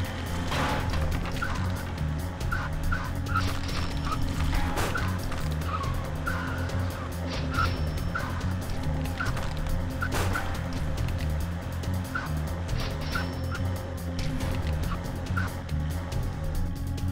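A chicken clucks repeatedly in the driving game Zombie Driver, short bursts over a constant engine drone, music and occasional tire screeches, fairly prominent in a busy game mix.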